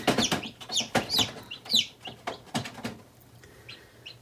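Newly hatched chicks in an incubator, a series of sharp high peeping calls in quick irregular bursts, close and clear, trailing off into softer scattered cheeps with no voices.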